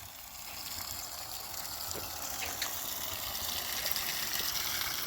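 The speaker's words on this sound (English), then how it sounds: "They got a little spout on the side there so you can fill up containers." Water pours from a side spout at a public water filling station in a steady, loud gushing stream that builds slightly and then holds constant, with no voices.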